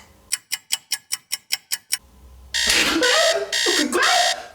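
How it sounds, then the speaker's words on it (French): A bedroom alarm clock sounds as a quick run of about nine sharp electronic beeps in steady rhythm, followed by a sudden loud, noisy burst of sound. "j'ai mis un réveil dans ma chambre"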